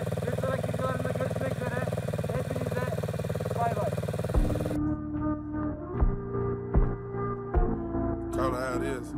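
A small mini cross motorcycle engine hums and revs while ridden in gear, a steady buzzing drone that shifts pitch midway and then pulses in uneven throttle bursts, with voices around it.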